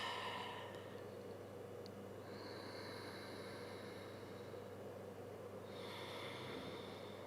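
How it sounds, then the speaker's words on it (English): Deep, slow breaths during a yoga class come as long airy inhales and exhales over a constant low hum, near and fairly soft. "take a couple of deep breaths."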